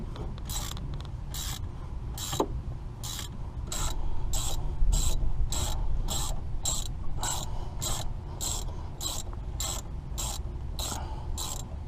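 Rapid ratchet wrench clicks in steady bursts as a brake caliper bolt is loosened during automotive servicing, close and clear over a low background hum.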